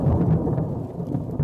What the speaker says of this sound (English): Thunder snow in Wisconsin and Minnesota highlighted the storm's unusual strength